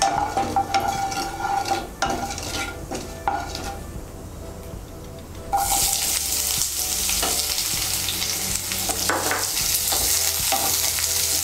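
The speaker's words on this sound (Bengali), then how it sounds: "পেঁয়াজটাকে হালকা একটু ভেজে নেব।" Two medium onions, finely chopped, fry in a pan for a Bengali dish while a spatula stirs and scrapes against the metal. A close, continuous sizzle grows louder and brighter partway through, with no talking.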